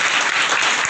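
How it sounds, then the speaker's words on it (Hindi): Conference audience clapping after a speech, a short, loud, dense burst of applause at an even level. "उनके लिए भी एक बार तालियां हो जाए"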